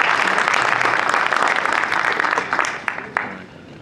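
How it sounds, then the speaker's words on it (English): A press conference crowd applauds boxer Leo Santa Cruz, steady clapping that thins into a few scattered, louder individual claps as it dies away. "Please give him a round of applause for one of my favorite fighters, Leo Santa Cruz."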